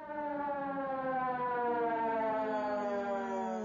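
A wailing ambulance siren rises and falls steadily, loud and close, with no voices over it.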